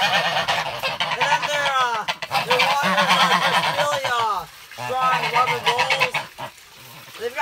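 Geese in a winter duck and goose house honk loudly and close together, a dense, continuous chorus of overlapping calls with a brief lull midway before the honking resumes.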